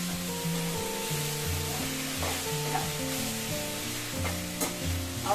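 Tomatoes and onions sautéing in a pan for prawn gravy, a continuous close sizzle with occasional stirring scrapes, while background music plays along throughout.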